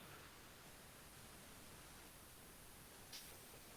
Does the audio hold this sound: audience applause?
no